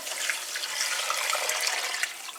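Chicken stock pours steadily into a metal pan in a home kitchen, a continuous soft splashing wash of liquid heard alone at low level.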